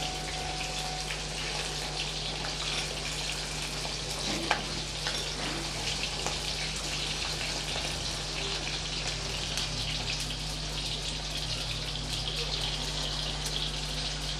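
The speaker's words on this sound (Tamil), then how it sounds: "இப்போ அதை வதக்கி விட்டுக்கலாம்." Whole peeled shallots sauté in hot oil in a pan for a curry, giving a steady continuous sizzle throughout, close and even with no talking.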